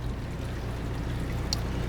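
Water running steadily from a faucet into a double sink in a 2008 Passport 290BH travel trailer, a continuous close pouring wash with a brief clink near the end.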